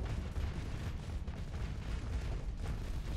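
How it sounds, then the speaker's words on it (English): Hellfire cannons fire in Starsector, a space combat video game, as a continuous low rumble of overlapping booms and blasts, fairly quiet and steady throughout. "those hellfire cannons are actually kind of annoying"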